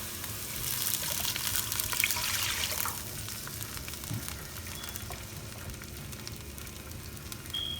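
Water pours into a pan of sautéed rice, garlic and ginger for cilantro lime rice, a rushing splash and sizzle loudest in the first few seconds, then settling into a quieter bubbling simmer.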